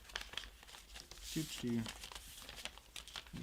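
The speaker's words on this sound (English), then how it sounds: "let's fold it this way really quickly just so I can get some blank paper" A sheet of paper being folded and creased into a paper airplane: soft crinkles and a sharper crackle near the middle, up close, with a voice speaking over it.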